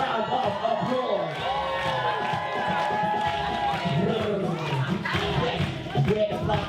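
Crowd at a ballroom kiki ball roll call clapping, cheering and whooping for a performer, a continuous loud wash of voices and claps with people calling out through it.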